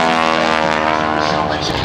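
Propeller aerobatic airplane performing rolls at the 2011 Blue Angels Homecoming Airshow, a loud sustained droning engine with steady harmonic tone, heard under a voice talking.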